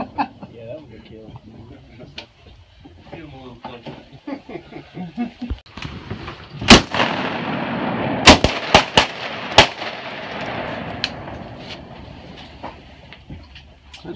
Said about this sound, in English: That's a good shot, Tony.